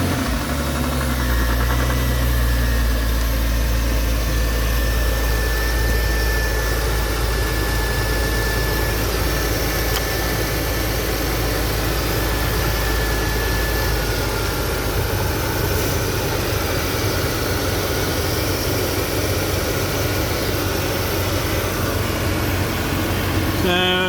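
A Porsche Cayman engine idles steadily with its AC compressor running, a constant close mechanical hum and low drone holding throughout without a break, no voices over it.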